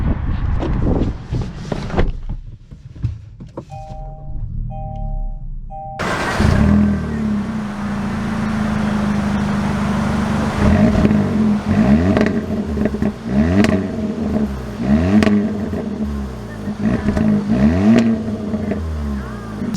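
A 2022 Kia Forte GT with a manual gearbox starts up and drives, its engine humming steadily and rising and falling in pitch as it revs through the gears, with a door thud early on and a faint voice near the start.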